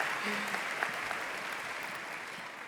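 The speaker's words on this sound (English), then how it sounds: "We can clap." Audience at the 2023 Harriton High School graduation ceremony clapping, a dense, steady wash of applause filling the clip at moderate level with no talk over it.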